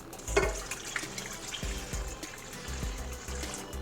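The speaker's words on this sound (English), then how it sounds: "I'm gonna go ahead and add our warm milk" Warm milk pours into a stand mixer bowl holding yeast, a close, steady liquid splash and trickle with a few knocks and clunks from the bowl.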